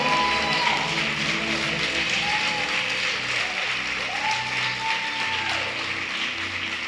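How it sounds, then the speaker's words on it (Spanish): A church congregation applauds loudly and continuously for several seconds, a dense wash of clapping close by with a few raised voices mixed in. "Dale fuerte ese aplauso al Señor"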